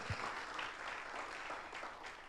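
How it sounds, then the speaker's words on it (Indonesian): Church congregation at an Indonesian worship service clapping for Jesus, a soft, continuous spread of applause heard from a distance at low level. "Beri tepuk tangan yang meriah buat Tuhan Yesus."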